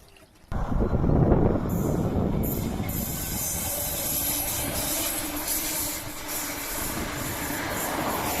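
A train passes in Sweden, arriving abruptly after a quiet moment with a loud rush, then holding a steady rumble with hissing and faint wheel squeal.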